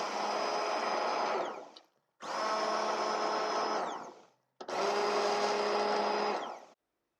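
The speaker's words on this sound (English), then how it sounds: "I'm going to blend my soup now. I'm using this stick blender" A stick blender whirs in three loud, steady bursts with short pauses between them, blending parsnip and apple soup.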